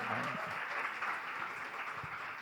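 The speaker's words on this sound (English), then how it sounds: "A big round of applause from Goodfellows because she's here for you guys." Applause from an audience at a silver economy summit fireside chat, a continuous soft wash of clapping heard from a distance, with a faint voice briefly at the start.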